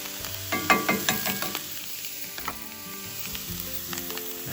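Beans with brown sugar and honey sizzle in a cast iron skillet outdoors, a steady frying hiss with a few scraping stirs near the start, close and alone.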